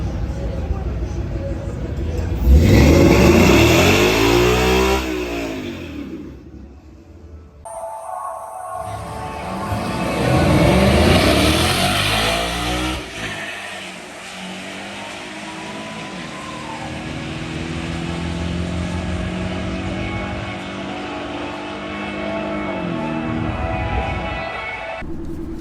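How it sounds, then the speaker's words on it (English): Coyote-swapped 1969 Ford F100 racing down a drag strip, a loud V8 revving through rising and falling gear sweeps, then fading with the engine note as the truck pulls away. "I did go down the drag strip."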